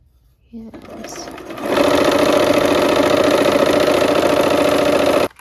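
A sewing machine stitching quilt pieces together, starting after a short pause and then running steadily and loud for several seconds before stopping abruptly, close up, with no talk over the motor's whirr.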